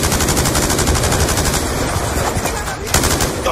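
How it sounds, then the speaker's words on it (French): Machine gun fire in Call of Duty Black Ops 2 rattles as a rapid, loud, unbroken stream of shots throughout, with faint voices under it. "Shootez la mitrailleuse!"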